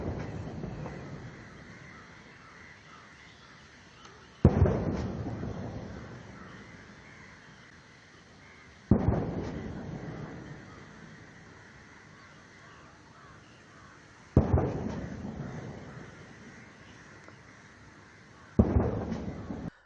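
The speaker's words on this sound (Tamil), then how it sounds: "சுதந்திர சதுக்கத்தில் பீரங்கி குண்டுகள் முழங்க ராணுவ மரியாதையுடன் பிரதமர் மோடி அழைத்து செல்லப்பட்டார்." A cannon salute is fired at a military welcome ceremony for the Indian prime minister at Independence Square in Sri Lanka. Five heavy booms come about four seconds apart, each followed by a long rolling decay, with no talk.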